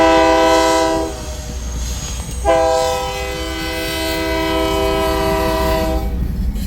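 A Chicago and North Western freight train led by a Norfolk Southern locomotive sounds its horn loudly in two long chords with a short break between, over the low rumble of the passing train on former C&NW track in the Midwest.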